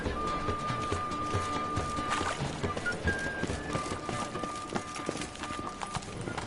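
Horse hooves clip-clop at a steady trotting rhythm in The Witcher 3, up close and continuous, with faint tonal game ambience behind them.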